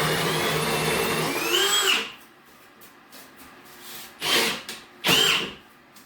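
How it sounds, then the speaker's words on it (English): A drill-driven grain mill crushes malt for a mixed-grain dark lager brew day, a loud coarse whirring grind for about two seconds, then two shorter bursts of milling after a quiet gap. "Let's get the mill on."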